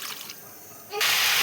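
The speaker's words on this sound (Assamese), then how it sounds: "পানী দি দিলোঁ।" Water poured into a hot cooking pan over fried potatoes in a home kitchen gives a sudden close sizzling splash in the final half second, after quieter faint kitchen noise.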